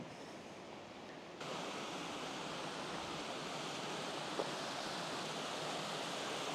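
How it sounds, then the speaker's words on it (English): A small waterfall beside a creek campsite along the John Muir Trail in the Sierra, heard as a steady, even rush of falling water that jumps louder after a moment and then holds constant. "Beautiful little waterfall by the campsite."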